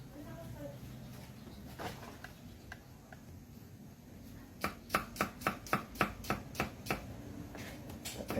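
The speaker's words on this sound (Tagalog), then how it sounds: "Gagahit tayo ng buyas." A knife chops onions on a board in a quick run of about a dozen sharp, evenly spaced thuds, preceded by quieter kitchen handling while people talk in the background.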